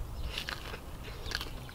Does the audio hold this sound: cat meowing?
no